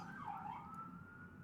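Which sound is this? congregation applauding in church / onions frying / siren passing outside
siren passing outside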